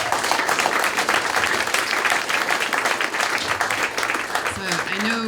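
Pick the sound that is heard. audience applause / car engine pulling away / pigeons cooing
audience applause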